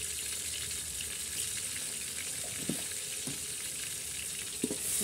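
Ginger garlic paste frying in a pan for chicken biryani makes a constant close sizzle, broken by a few soft scrapes of a spoon stirring.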